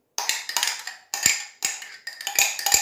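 A spoon scrapes and clinks against a bowl while stirring raspberry jam for a rolled cake, in short repeated strokes with brief pauses, close and clear with no talking.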